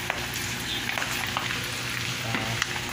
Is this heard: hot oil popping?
yes